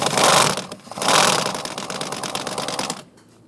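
A T50 Torx bit on an extension loosens a bolt on the steering of a 2011-2021 Jeep Grand Cherokee, giving a loud, close, buzzing mechanical whir that surges and runs steadily for about three seconds before cutting off.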